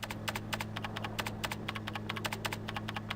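Quick, uneven keystrokes clatter on a computer keyboard, close and crisp over a steady low hum, with no talking.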